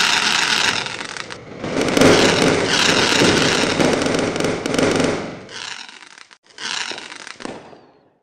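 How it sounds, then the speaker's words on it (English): Dense crackling bursts of video game fireworks fill the scene, loud and continuous for several seconds before breaking into shorter separate bursts and fading. "the fireworks are glitching out"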